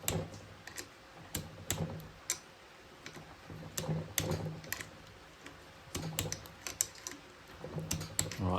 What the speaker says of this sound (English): Got a smaller torque wrench for these little M6s.